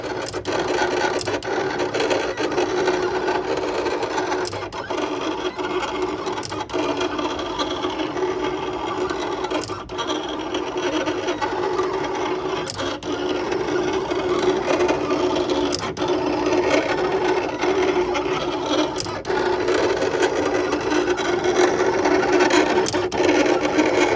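A vinyl cutting machine feeds out a sheet of heat transfer vinyl, a continuous close whirring, rasping motor sound with small regular clicks spread through it, steady in level throughout.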